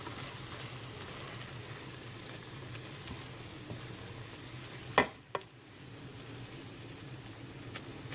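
Jalapeno peppers sauté in a pan with onions and bell peppers, giving a steady, moderate sizzle with a few sharp utensil knocks partway through, no talking.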